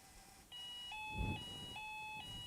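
Delkim fishing bite alarm receiver set as an anti-theft alarm, sounding a repeated bright electronic double-tone beep at a steady rhythm, clear and fairly close, with a brief thump of handling partway through.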